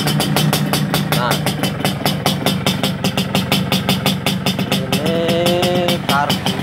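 A Yamaha RX King motorcycle fitted with an L2 engine and a racing carburetor runs steadily up close, its two-stroke idle a loud continuous pulsing rumble throughout, with a brief rise in revs near the end.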